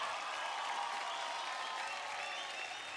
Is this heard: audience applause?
yes